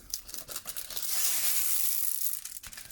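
A plastic bag of diamond painting supplies is pressed shut, giving a close, brief rustle and crinkle that swells for about a second and then fades, with no talk.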